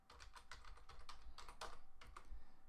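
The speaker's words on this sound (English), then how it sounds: "So I'm going to type in password" A password is typed on a computer keyboard in a quick, steady stream of soft keystrokes lasting a few seconds, quiet and close, with no voices.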